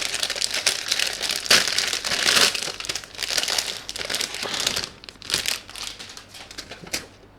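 Plastic wrapping on a Gundam model kit pack crinkles and rustles close by in irregular bursts, with loud crackling peaks and short quieter gaps between handlings.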